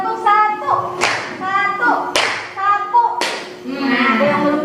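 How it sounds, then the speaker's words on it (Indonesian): Classroom of pupils doing rhythmic concentration clapping, sharp unison claps in sets separated by chanted group voices, loud and close in a room. "kita tepuk konsentrasi dulu"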